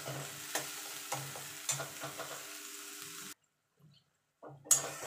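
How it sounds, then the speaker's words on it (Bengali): Tomato and ginger paste being sautéed in a pan for a vegetarian jackfruit curry: rhythmic spatula scrapes over a soft sizzle, close and moderate, with a short quiet pause before the stirring resumes. "দিয়ে ভালো করে এটাকে একটু কষিয়ে নেব যতক্ষণ টমেটো আর আদার কাঁচা গন্ধটা চলে না যাচ্ছে"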